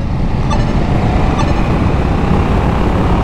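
A KTM 890 Duke motorcycle engine drones loudly and steadily while riding, close and continuous with rumbling wind noise and no pauses.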